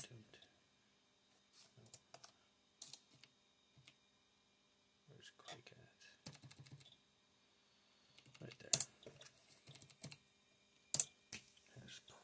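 Typing on an old Compaq LTE laptop keyboard, sparse, faint clicks and short bursts of key presses with pauses between, close but quiet, with low speech now and then.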